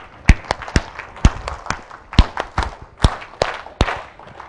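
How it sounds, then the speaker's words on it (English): A group claps hands in sharp, loud, close bursts, roughly a dozen claps at an uneven rhythm over a few seconds, with faint voices underneath. "This clap."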